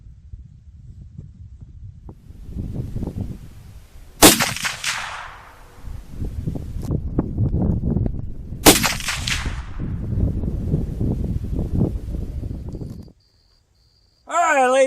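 A 45-70 Government lever-action rifle fires two loud, sharp shots several seconds apart at an outdoor range, each with a ringing tail, over wind rumble and someone talking.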